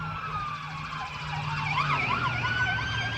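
An ambulance siren passes nearby, its wailing tone sweeping up and down and growing louder as it approaches, heard over a low hum of traffic.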